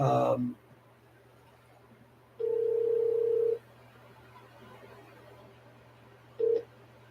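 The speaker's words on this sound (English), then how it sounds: "Can't believe I just got a phone call when I turned my phone off." A phone rings during a spoken lore episode: one sustained electronic tone lasting about a second, then a brief second blip, fairly faint over a low steady hum.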